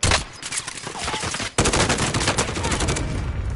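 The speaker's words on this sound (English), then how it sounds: "Oh, he's getting shot at right now." Rapid gunfire bursts in the battle royale shooter Modern Warfare Warzone, loud and dense, with a brief gap before a sustained stretch of automatic fire.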